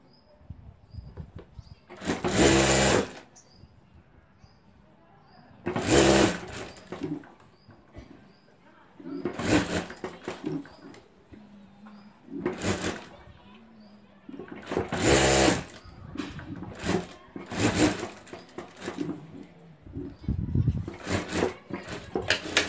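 A domestic sewing machine stitches the lining of a homemade sling bag in several short, loud bursts spaced a few seconds apart, with quiet pauses between runs.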